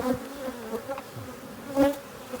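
Honeybees buzzing around an open hive during an inspection, a close, steady hum with individual bees droning past the ear.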